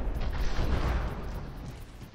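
A deep explosion from the video game From the Depths, a heavy booming burst that swells briefly and then slowly fades with a rumbling tail.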